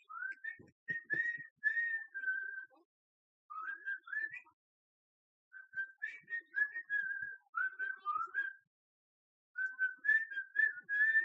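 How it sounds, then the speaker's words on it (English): A person whistles a tune in short melodic phrases separated by pauses, clear and fairly close, with no talking over it. "I whistled."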